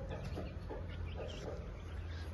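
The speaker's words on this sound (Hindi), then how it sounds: "ये तीन बच्चे इस मुर्गी के हैं" A mother hen with three chicks clucks softly and repeatedly in a yard, a low, close, irregular series of short clucks over quiet background noise.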